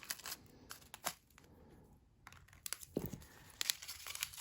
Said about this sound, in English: I'm just going to cut open a corner.